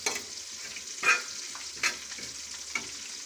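Crushed red chili and whole cumin seeds roasting in a pan give a close, soft sizzle with scattered stirring scrapes and a few louder spatula strokes, no talking.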